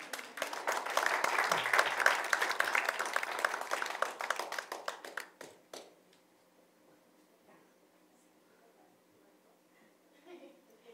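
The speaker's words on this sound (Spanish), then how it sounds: "Un aplauso, por supuesto." An audience at a cultural book event claps in steady applause for about five seconds, loud and dense, then fades out to near silence with faint room sounds.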